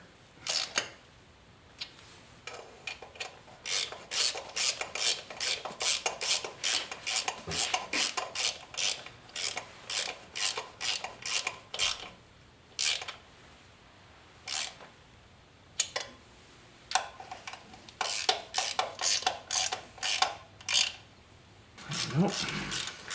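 Rapid bursts of ratchet clicking as bolts on an Edelbrock intake manifold are snugged down on a 454 engine, the clicks coming in repeated runs with short pauses, close and fairly loud, with faint voices in the workshop now and then.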